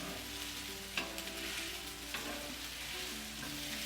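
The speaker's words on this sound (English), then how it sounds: "And these tortillas are going to heat up." Tortillas warming in a hot pan with browning meat nearby, a steady close sizzle and hiss with a couple of light clinks and no talking.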